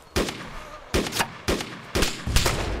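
Rapid gunfire shot at an enemy during a firefight against a Spetsnaz group: five loud, sharp bursts of several shots each, evenly spaced about half a second apart and close by.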